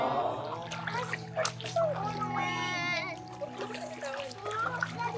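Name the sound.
child splashing while playing in water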